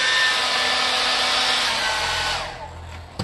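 A hair dryer heating part of a 2013 Yamaha F15 outboard motor blows loudly with a steady whooshing hiss, then winds down and clicks off near the end.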